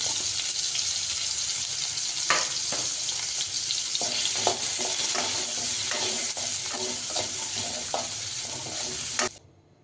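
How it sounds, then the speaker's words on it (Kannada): Tomatoes frying in a pan for paneer butter masala, a steady loud sizzle with scattered stirring scrapes and clicks, cutting off abruptly at the end; no talking. "ಟೊಮೊಟೊನೂ ಕೂಡ ಫ್ರೈ ಮಾಡಿ ಹೆಚ್ಚಿಟ್ಕೊತೀನಿ"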